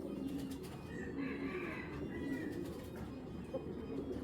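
Pigeons in a Bangladeshi loft coo softly under a constant low hum of background noise, with faint chirps and wing shuffles mixed in.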